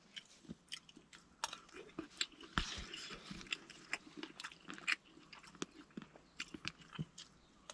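Close, wet chewing and biting on a plate of Thai-style stir-fried Mama instant noodles eaten outdoors at a bamboo-forest camp, with irregular soft crunches and smacks; no talking.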